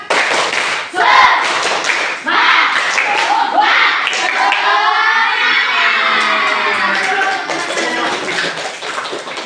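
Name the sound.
group doing rhythmic spirit clapping (tepuk semangat)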